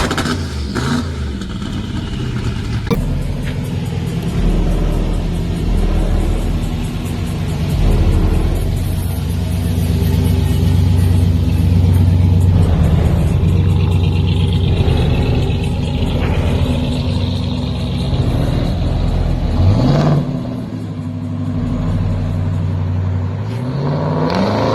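Classic car with a straight-back exhaust, engine rumbling loudly nearby with repeated revs and accelerations during a street cruise, a deep sustained roar rising and falling over about twenty-five seconds.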